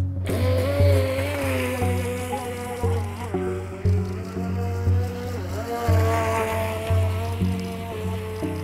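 A UDI high-speed RC racing boat runs on water, its small electric motor giving a loud, close, insect-like whine that rises and falls in pitch as the throttle changes.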